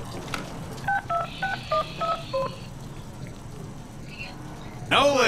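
Phone keypad dialing tones in a Deadpool video game beep in a quick run of about seven presses, followed by a brief ringing warble, with background game sound and a voice nearby.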